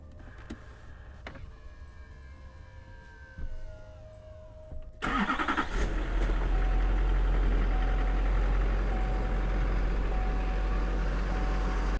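A 2004 and a half Chevrolet Silverado 2500 HD pickup sits quietly while power-folding tow mirrors whir, then the engine cranks and starts with a sharp burst and settles into a loud, steady idle, close by in a garage.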